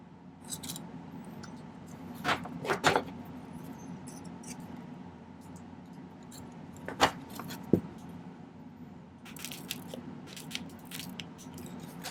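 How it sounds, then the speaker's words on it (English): Scissors snipping thin silver strips for silver bands, a few sharp close clicks scattered over a quiet background, some in quick pairs. "I'm going to cut some kind of skinny strip pieces here"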